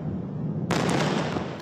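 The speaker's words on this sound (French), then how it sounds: "Explosion dans le centre de la ville." A missile strike explodes in the Tel Aviv city centre as a sudden loud, broad blast that cuts into faint background noise and then rolls on as a sustained roar.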